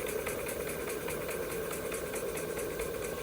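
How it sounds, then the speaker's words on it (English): A Stuart beam engine running on steam chugs along steadily, a close continuous rhythmic knocking and hiss with regular repeating beats and no talk over it. "the engine's still running along beautifully well. And there we go, picking up a bit of speed."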